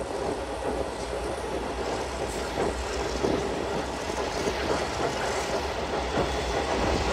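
Stone-carrying freight train nearing the Padma Bridge, heard from on board: a continuous heavy rolling rumble with faint rhythmic clickety-clack and wind hiss, no voices.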